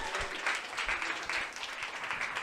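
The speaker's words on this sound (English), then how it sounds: "Give a round of applause for Ellen D." An audience at a panel of Filipino Hollywood actors applauds with steady, moderately distant clapping that holds at an even level throughout.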